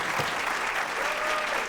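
A comedy show crowd claps for a stand-up comedian in a thick, unbroken wash of applause, heard close and fairly loud without any talking over it.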